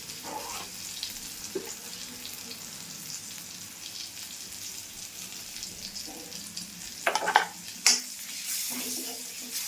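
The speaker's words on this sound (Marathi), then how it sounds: "मसाला सगळं फ्राय करून घ्यायचे." Masala spices fry in a pan for a ridge gourd curry, a soft, steady sizzle close by, broken near the end by a few sharper clinks of a utensil against the pan.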